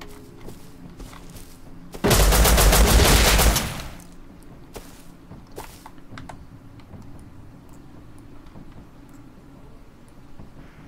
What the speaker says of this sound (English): What are you shooting at, buddy?